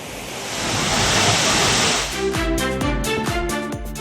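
Courtallam waterfall pours down in a steady loud roar while tourists bathe beneath it, the rushing water dense and continuous, with rhythmic thumping splashes and pulses of water joining in partway through.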